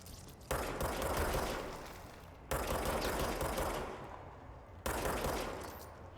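Three long bursts of rapid automatic gunfire while shooting enemies in the video game Control, each starting sharply and fading slightly, separated by brief gaps, fairly quiet overall.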